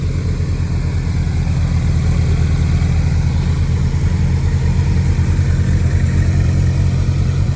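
Convoy of Porsche GT3 RS flat-six engines idling together, a dense steady low rumble, loud and close without pause, with no voices.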